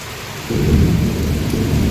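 Heavy rain hisses steadily, then a deep rumble of thunder rolls in and holds beneath the downpour.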